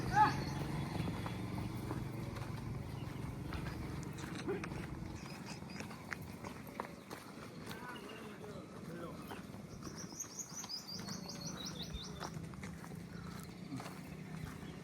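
Horse hooves clip-clop at a walk through the whole stretch, mixed into steady outdoor noise while people talk over them.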